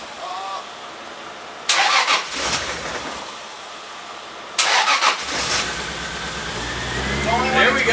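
An abandoned twin-turbo Toyota Supra running on E85 cranks and catches in two close bursts, loud and near, then settles toward a rough idle, with people talking around it.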